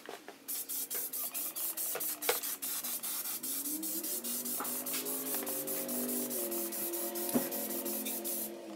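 Plastic dip is sprayed in thick coats onto the rear end of a Nissan Y62, heard as close, rapid repeated hissing bursts from the aerosol can, with a faint tonal whine rising and shifting underneath.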